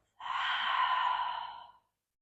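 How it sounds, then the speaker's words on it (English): A single deep exhale pushed out through the mouth during a gentle yoga warm-up, soft and breathy, close and alone, lasting about a second and a half. "Deep exhale out the mouth."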